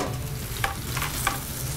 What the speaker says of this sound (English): now split the chicken between the two pans